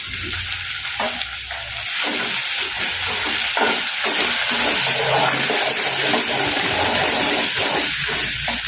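Tomatoes and curry leaves dropped into a hot pan for a spicy okra kara kuzhambu, giving a loud, steady sizzle and hiss with stirring scrapes throughout, heard up close.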